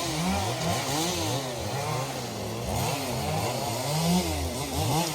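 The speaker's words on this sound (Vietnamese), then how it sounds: "3 cái máy cưa." Three chainsaws run at once cutting wood at a busy loading site where a truck is being filled, their engines droning steadily and loudly with overlapping pitch swings throughout, no voices.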